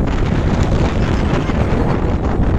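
Strong wind buffets the microphone on Mt. Mariglem in Cabangan, Zambales, a loud, continuous rumbling roar with no break across the whole stretch.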